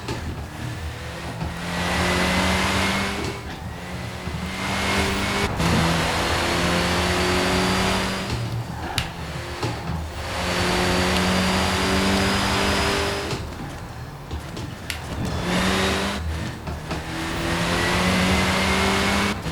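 Rally car in a racing video game on the Ambleside Ascent stage: the engine revs hard through repeated rising gear pulls and shifts, with brief lifts between bursts, loud and close throughout with no talk.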